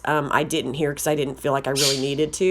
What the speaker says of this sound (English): Sorry if you hear my parrot screaming in the background.